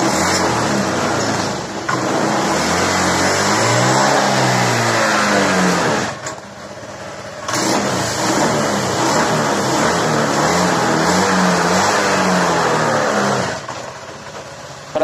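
A Honda Beat Pop eSP scooter engine with a sputtering, faltering throttle fault revs hard and close, holding a loud continuous drone for several seconds with two brief dips, no talk.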